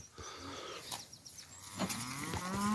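Cattle on a beef farm with bulls low and moo nearby, several drawn-out calls overlapping against outdoor background noise, one rising louder toward the end.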